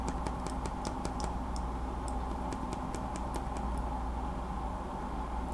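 Silent mechanical keyboard switch with a bent stem, pressed repeatedly, giving faint rapid ticking clicks in irregular bursts over a steady background hum.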